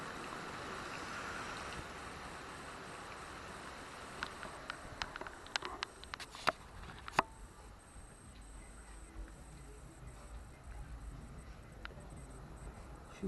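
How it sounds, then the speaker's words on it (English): Heavy rain pouring steadily during a severe thunderstorm, a dense continuous hiss at moderate distance, with scattered sharp drips and taps standing out midway. "as you can hear, it's pouring hard now."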